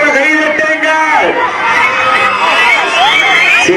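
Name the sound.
crowd whistling, clapping and cheering players at a bull-taming event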